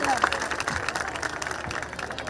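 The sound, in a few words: applause from audience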